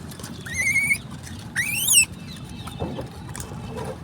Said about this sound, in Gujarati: આ બચ્ચું કેટલું બૂમ પાડે છે